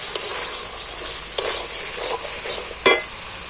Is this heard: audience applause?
no